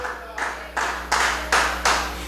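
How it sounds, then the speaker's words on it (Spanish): A church congregation claps together in a steady rhythm, about six strong beats in unison, each one clear and close, with no talking over it. "dele palmas a Dios que vive por los siglos de los siglos"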